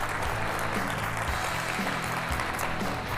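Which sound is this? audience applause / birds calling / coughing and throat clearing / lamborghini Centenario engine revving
audience applause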